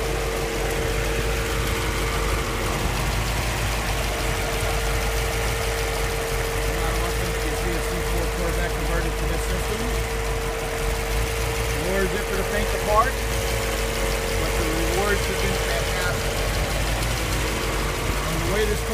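A 1991 Corvette V8 fitted with FAST EFI 2.0 fuel injection and a FAST dual sync distributor idles steadily, a loud, close, continuous rumble with a slight lope and a faint whine running through it.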